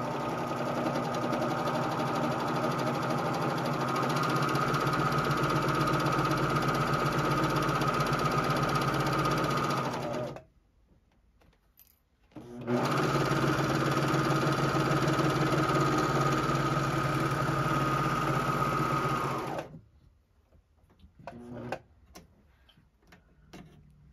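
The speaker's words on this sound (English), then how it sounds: "So now, let me serge these together." A JUKI MO-2800 serger runs fast through layers of quilted fabric for a table runner, a steady loud mechanical whir in two long bursts separated by a brief pause, then quiet handling noises at the end.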